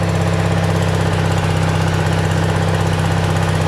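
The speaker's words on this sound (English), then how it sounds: "I'm sure that's the engine knocking." A Simplicity mower engine fitted with a cheap Chinese replacement carburetor idles with a steady mid-pitched drone and engine knock, close and loud and constant, with no voices.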